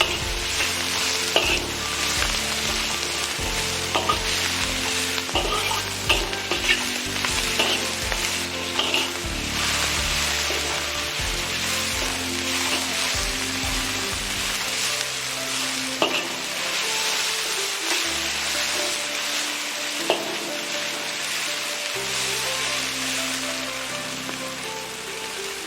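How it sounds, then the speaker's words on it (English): Pork stir-fried in a hot pan for knife-shaved noodles: a steady, loud sizzle runs throughout, broken by frequent clattering scrapes of the spatula tossing the meat. No one speaks. "Add pork and stir fry for 2 to 3 minutes until pork is just cooked."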